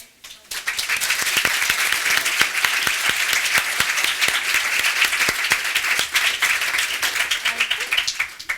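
An audience bursts into sustained applause after a talk by Miss Universe 2015 Pia Wurtzbach, dense clapping that carries steadily for several seconds before thinning toward the end.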